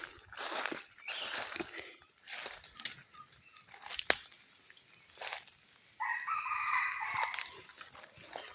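A rooster crows in a forest, answered by further distant crows and clucks amid rustling footsteps, insects and the open ambience of the woods, with no talk.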